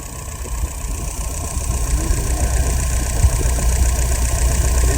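An engine fires up and settles into a steady idle, a loud continuous knocking rumble that grows slightly stronger and holds evenly with no talk over it.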